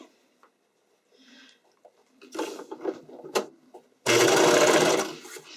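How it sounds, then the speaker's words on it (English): A sewing machine stitches a straight seam on a skating dress, a dense, steady mechanical whir lasting about a second and a half at the end, after quiet handling sounds of fabric and small clicks. "So I'm going to sew that in."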